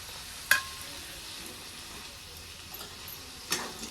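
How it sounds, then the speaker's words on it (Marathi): Dry chickpea-leaf bhaji is stirred and mixed in a pan, a gentle sizzle beneath two sharp scraping clacks of the spoon against the pan, quiet and close. "तर आपल्याला दोन मिनिटासाठी भाजी असे हलवायचे आहे मिक्स करायचे"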